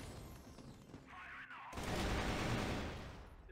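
AK-47 gunfire in the video game CrossFire, faint and distant at first, then a denser, louder burst of shots with rumbling noise in the second half, no talk.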